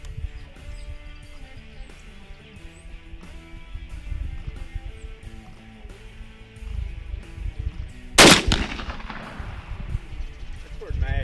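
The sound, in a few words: Retay Gamelander .410 shotgun firing 3-inch 9.5 shot Verdict load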